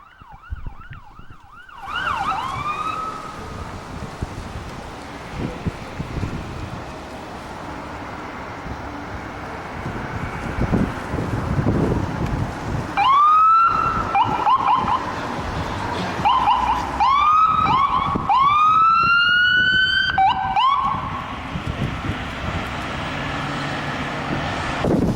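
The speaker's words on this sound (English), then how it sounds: "There's an ambulance." An ambulance siren wails and yelps as it passes on a street in Pontiac, heading to McLaren Hospital, growing louder in the second half over steady road and car noise.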